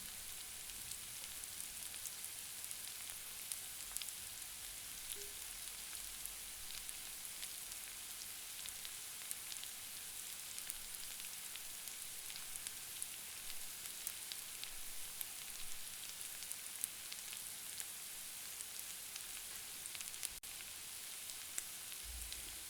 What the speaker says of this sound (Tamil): பன்னீர் ஒன்றோடு ஒன்று ஒட்டாமல் சூப்பராக ஃப்ரை ஆகிடுச்சு